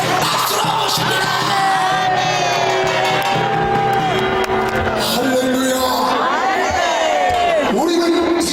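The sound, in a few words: crowd cheering and applauding to welcome a pastor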